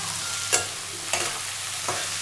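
Onion, poppy seed paste and diced potatoes fry in a pan with a soft, steady sizzle, while a spoon scrapes through them in three distinct strokes.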